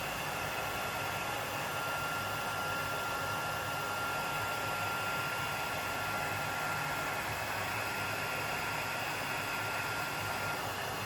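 A heat gun blowing hot air over gold embossing powder on a card, a constant loud whooshing hum that runs unbroken throughout with no speech.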